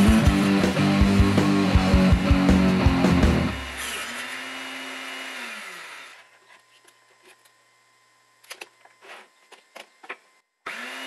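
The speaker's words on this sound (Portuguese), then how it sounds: "Agora vou cortar aqui as peças para colocar em cima. Utilizei o meu tabuleiro de corte." Wooden pieces cut on a table saw while building a benchtop drill vice, a loud dense whining buzz lasting about four seconds that winds down to a fading hum, followed by near silence broken by a few sharp knocks of handling.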